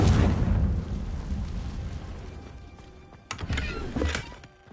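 A Confringo blasting spell detonates in a Harry Potter video game, a loud booming burst that rumbles and slowly fades, followed by a second sharp crackling blast near the end.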